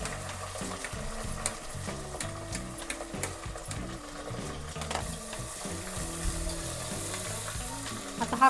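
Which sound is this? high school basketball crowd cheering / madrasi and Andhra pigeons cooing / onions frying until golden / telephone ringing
onions frying until golden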